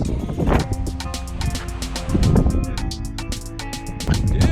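Gusty wind at the beach buffets the microphone in steady rumbling bursts, with a rhythmic flapping or rattling pattern running throughout; no voices.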